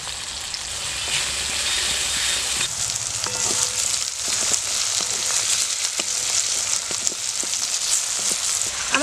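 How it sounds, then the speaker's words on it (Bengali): Bean seeds fry in a pan with salt and turmeric, giving a steady close sizzle with faint scraping and stirring clicks throughout, no voices. "সিমের বীজগুলো একটু লাল লাল করে ভাজতে হবে"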